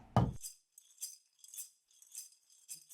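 A bird-head rattle gives light, glassy clinks in a loose, repeating pattern after a brief low thump, delicate and close with quiet gaps between shakes.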